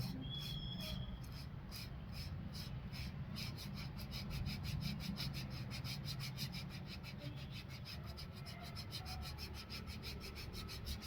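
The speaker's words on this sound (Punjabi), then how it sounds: "ਰੇਗ ਮਾਰ ਦੀ ਮਦਦ ਦੇ ਨਾਲ ਤੁਸੀਂ ਇਹਨੂੰ ਰਗੜ ਲੈਣਾ ਹੈ" Sandpaper rubs hard against a tyre inner tube being prepared for a puncture patch, a continuous close scraping rasp that lasts throughout with faint background noise.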